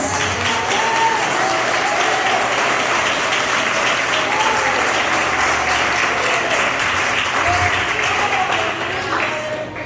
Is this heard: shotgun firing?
no